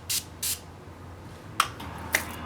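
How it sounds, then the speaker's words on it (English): Two quick hissing bursts of Morphe makeup setting spray from a pump bottle, soft and close, followed by a couple of faint clicks. "We'll do a Morphe setting spray."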